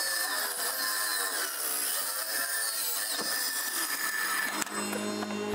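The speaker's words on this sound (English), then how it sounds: "The first thing I'm gonna do is just to cut a 45 degree miter off a piece" Power saw slicing a 45-degree miter through a wooden 2x4, a sustained loud whining cut with a grinding rasp, ending abruptly with a sharp click as the blade stops near the end.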